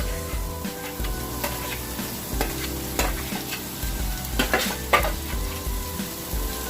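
Tomato and chopped onions sizzle steadily in a pan for a king prawn curry while a utensil stirs through them, with a continuous frying hiss broken by scraping strokes against the pan.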